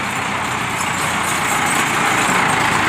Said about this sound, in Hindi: लो जी ट्रैक्टर हैगा जी फार सेल 75-15 मॉडल।